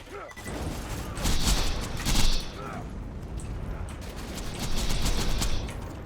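Gunfire from the Conference Call shotgun in Borderlands 2, dense crashing bursts of shots layered over busy game noise, with louder swells at the start and again near the end.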